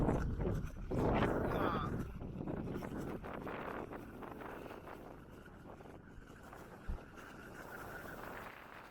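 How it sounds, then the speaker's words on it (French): Strong wind in the Pyrenees mountains, a loud buffeting roar battering the microphone in continuous gusts, strongest early on then holding steady, with a brief knock near the end. "Mais il y a tellement de vent."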